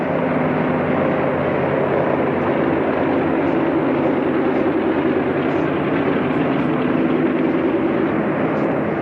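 A large propeller airliner rolls out after touchdown at Tempelhof, a steady loud engine drone and rumble that holds without break throughout.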